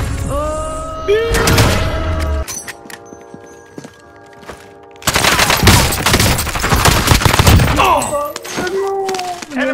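Gunfire in the video game Warzone, loud rapid bursts of shots and impacts crowding the second half, with quieter game effects and pauses earlier and voices underneath.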